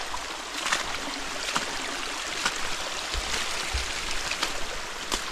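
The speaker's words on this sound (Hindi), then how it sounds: "ये देखो भाई पूरे रास्ते में नाला ही नाला है" Cold, clear water of a small stream runs along a hillside footpath, giving a steady, close rushing and trickling wash with no speech over it.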